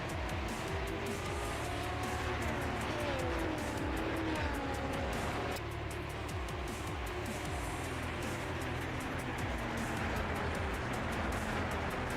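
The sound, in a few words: race cars starting to move in a sim racing video game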